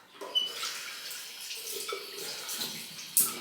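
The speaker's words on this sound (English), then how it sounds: "I'm just gonna rinse that off." Water runs from a bathroom tap as a face is rinsed during a bedtime skincare routine, a soft continuous splashing and trickling with small irregular splatters throughout, fairly quiet and close.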